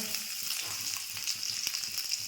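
Dried red chilli, a torn bay leaf and five-spice seeds sizzle steadily in hot oil in a pan, with a bright, continuous crackling hiss and no talking.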